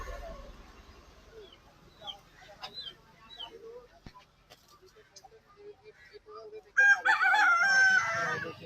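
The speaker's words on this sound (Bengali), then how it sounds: "কি সুন্দর আরেকটা মোরগ আছে।" At a market for native hill chickens, scattered clucks and short calls give way to a loud, close rooster crow near the end, with faint voices in the background.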